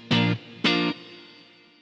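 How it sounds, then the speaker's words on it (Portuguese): A clean electric guitar with only a little reverb, no saturation, plays two short strummed chords, each ringing briefly and then cut off, followed by a fading tail, alone and fairly loud. "O som da minha guitarra pura tá aqui"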